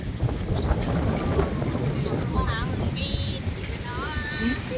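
Strong storm wind roars steadily and loudly outdoors throughout, with a few faint chirping or squeaking tones above the rushing noise.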